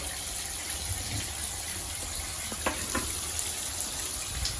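A bathroom shower runs steadily while water drains away through a cleared shower waste after unclogging, a constant close hiss of falling water with a few small splashes and no talk.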